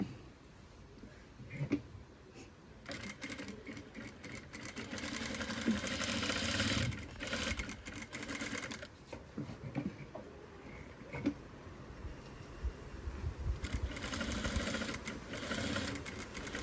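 A sewing machine stitching a gown runs in long steady whirring stretches broken by short pauses, moderately close and fairly quiet, with a soft mechanical rattle.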